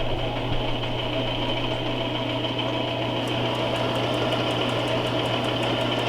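A sewing machine runs steadily while a beginner stitches a straight seam on a fabric table runner, a continuous close mechanical whir with a constant motor hum and light rapid ticking.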